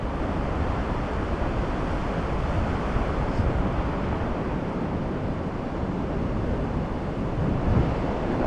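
Ocean surf and wind at Daytona Beach Shores, Florida, after a hurricane, a constant loud wash of waves and gusty wind noise with no break.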